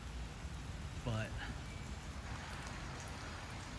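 Steady rain hisses outside a brick house, a dense wash of falling drops filling the background while someone speaks briefly over it.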